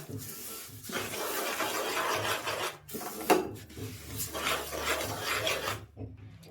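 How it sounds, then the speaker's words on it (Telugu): Peanuts and sesame seeds are stirred into hot jaggery syrup for nuvvula laddu, giving a continuous close scraping and rasping of spoon against pan, with brief pauses. "ఇప్పుడు ఇందులోకి పల్లీలు నువ్వులు వేసేసి కలిపేసుకోండి"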